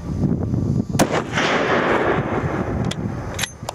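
Gunfire during a hunt cracks out as several sharp, loud reports spaced over a few seconds, with a rumbling outdoor wash and echo trailing between shots.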